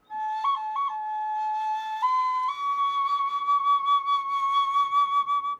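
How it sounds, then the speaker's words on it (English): A bone flute, like those excavated at Chavín, plays a steady, clear high tone that steps up in pitch in a few held notes. It sounds close and fairly loud, with no voices. "Flutes carved from bone."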